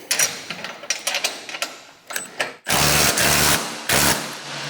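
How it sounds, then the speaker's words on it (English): A 9/16 wrench and socket tighten 3/8 bolts on a MUSKOX 26-84 snowblower, first as a quick run of close, uneven ratcheting clicks, then as two longer, louder grinding bursts. "retightening back up these 3/8 bolts with my 9/16 wrench and socket"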